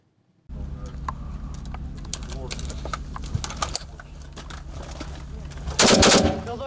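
Automatic rifle fire and grenade launcher shots ring out at a military training ground, bursts of sharp cracks in fast irregular runs, with a louder heavy blast near the end and a voice speaking over the shooting.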